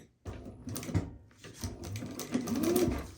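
Sewing machine stitching a zip pouch, short bursts of close mechanical clatter starting and stopping over a few seconds.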